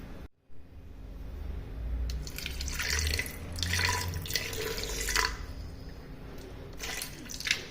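Water poured into a pressure cooker holding chicken with ginger-garlic paste, salt and green chillies, giving a gentle splashing trickle in short bursts over several seconds, fairly quiet and close.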